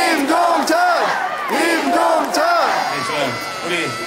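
Korean baseball fans at a Hanwha Eagles home game in Daejeon chant a player's name in rhythmic, repeated shouts from a large crowd, loud and close, continuing through the whole stretch.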